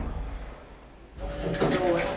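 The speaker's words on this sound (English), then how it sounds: "Door opening." A Stannah hydraulic passenger lift's door sliding open, a rising mechanical whir and rumble that starts after a quiet moment and continues near and fairly loud.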